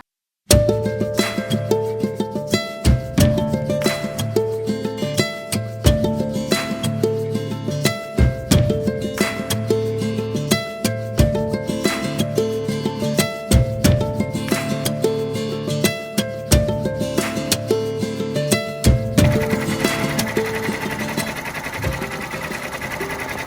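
A machine embroidery setup stitches steadily, giving a loud, fast mechanical chatter with a regular rhythmic pulse and small pauses. Near the end it shifts to a brighter, whirring tone.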